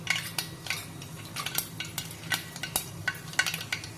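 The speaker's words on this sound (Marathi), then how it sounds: "तेल तापलेलं आहे मोहरी घातली" Mustard seeds sizzle in hot oil for tempering, a close crackle dotted with quick pops and light spoon clinks against the pan.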